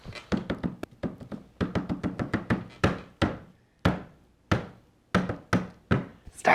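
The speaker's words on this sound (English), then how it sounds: "I'm going to knock on the door" Knuckles rapping on a wooden door in quick clustered bursts of sharp knocks, close and loud, with brief pauses between volleys.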